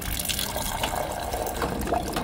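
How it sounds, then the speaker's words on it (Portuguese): Sparkling water pours from a dispenser into a small cup in an airport VIP lounge in Chile, a steady close fizzing gush of liquid with faint background noise and no clear talk. "Vou pegar uma água com gás, ó."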